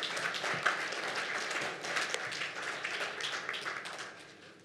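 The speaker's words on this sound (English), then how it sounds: "Let's give him a round of applause, please." Audience applause for the facilitator at a side-event meeting on Zimbabwe's debt arrears; a sustained wash of many hands clapping, fairly soft and even, tapering off toward the end with no speech over it.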